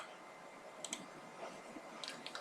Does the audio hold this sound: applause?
no